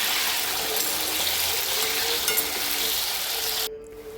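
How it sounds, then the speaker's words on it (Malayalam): Gooseberries sautéing in sesame oil for a Kerala-style pickle, with a steady, loud sizzle and frying crackle that cuts off abruptly near the end. "നല്ലെണ്ണ കിടന്ന് നന്നായിട്ട് വഴറ്റിയെടുക്കണം"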